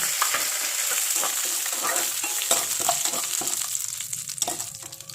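Dried red chillies frying in oil in a pan while being stirred, a continuous close sizzle broken by repeated scraping strokes of the spoon, no voices.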